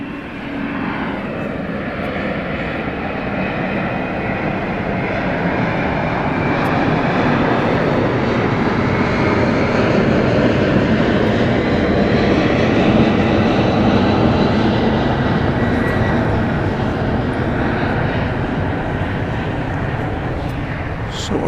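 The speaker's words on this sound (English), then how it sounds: "Bit of tri-jet cargo action for you there. FedEx Flight 815 going to Memphis." A FedEx tri-jet cargo aircraft bound for Memphis roars steadily at LAX, its loud broadband engine noise swelling and holding for over twenty seconds with a faint voice beneath.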